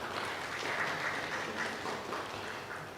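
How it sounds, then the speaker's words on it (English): An audience claps at a live announcement event, a steady mid-level patter of many hands heard from some distance. "You can clap for us."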